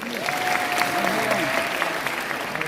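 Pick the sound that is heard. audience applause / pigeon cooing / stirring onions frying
audience applause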